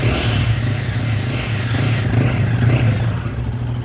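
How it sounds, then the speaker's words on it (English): A Royal Enfield Guerrilla 450 motorcycle, held in neutral, runs at a steady idle after starting, giving a loud, close, continuous low engine rumble with light mechanical clatter and no talking. "So let's start the bike now. Neutral. Yeah, just hear the sound."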